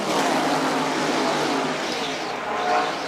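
NASCAR stock cars racing in a pack at Daytona International Speedway during the 1984 Daytona 500, a loud, steady roar of engines and tires that swells slightly as the group passes close by.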